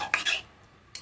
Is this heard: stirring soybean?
yes